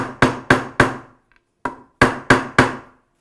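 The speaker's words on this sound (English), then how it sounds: "I like to use a little bit of dowel so that we can hammer them in" Wooden dowel struck with a hammer to seat tuner bushings into a guitar headstock from a Trev Wilkinson guitar kit: seven sharp, close knocks, three quick ones, a pause, then four more.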